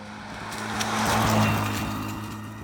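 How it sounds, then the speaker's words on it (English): A 2024 McLaren Artura supercar rolls along in pure electric mode, its low motor whine and road rush swelling up and then easing off with no combustion engine note. "I'm still driving in pure electric mode"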